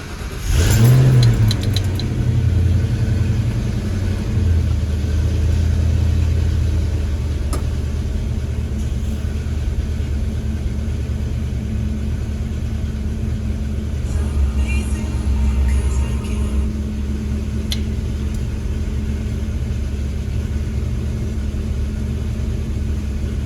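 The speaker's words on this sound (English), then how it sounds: "in order to test this out, I'm going to have to start the car." A Foxbody Ford Mustang, not run for over a month, cranks and catches with a loud surge, then settles into a steady, low rumbling idle that continues to the end.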